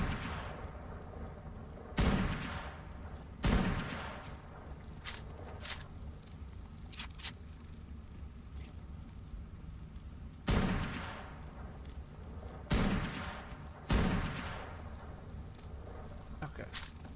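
Gunfire in the video game Ark Survival Evolved: loud, sharp gunshots fire in separate bursts of one or two, spread across the stretch over a steady bed of game ambience with no talking.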